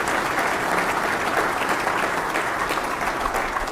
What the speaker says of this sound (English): So our sponsors definitely deserve a round of applause for supporting this community.